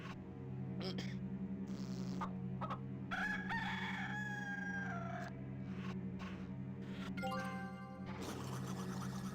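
A cartoonish rooster in the Discworld 2 adventure game crows several times with clucking over a steady background hum and game music, while someone talks over parts of it.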